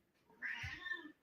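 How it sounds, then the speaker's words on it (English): A pet cat gives one short, faint meow close by in a quiet room, a single rising-and-falling call with nothing else around it. "So if you guys hear meowing, that is Ocean."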